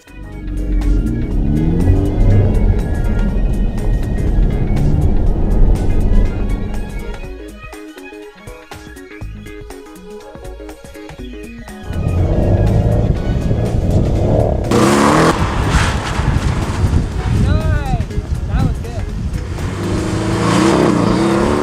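Porsche 911s and 718 Cayman S sports cars drive and accelerate around a coned driving course, engines revving loud and close, dipping away briefly before surging back with strong acceleration.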